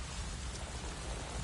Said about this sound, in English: Sounds like there's a storm coming.